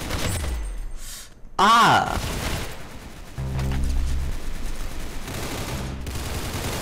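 A fast burst of automatic gunfire from the Roblox shooter game Arsenal rattles loudly in the middle, set against game music and effects, and a player lets out a short exclamation.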